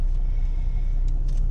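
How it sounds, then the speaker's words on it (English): A car crawls along in slow road traffic, a steady low engine rumble and road hum from inside the vehicle with a few faint brief noises, and no talking. "we're in traffic, bro."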